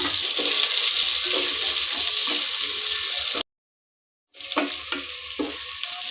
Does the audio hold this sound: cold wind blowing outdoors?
no